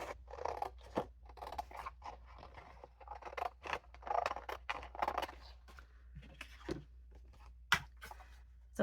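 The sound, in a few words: cutting paper medallions for a card tutorial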